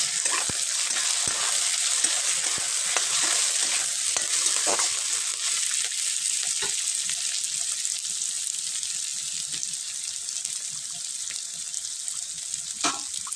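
Green chillies frying in a pan of oil while cooking broiler chicken curry, a steady close hiss with faint crackles and occasional clinks, no one speaking.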